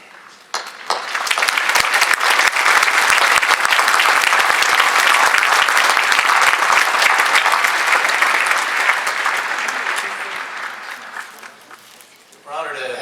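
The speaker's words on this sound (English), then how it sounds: "Hold your applause till both have been introduced." Loud, sustained audience applause fills a hall at a Purdue University commencement ceremony, starting abruptly, holding steady for about ten seconds, then tapering off before a voice resumes speaking.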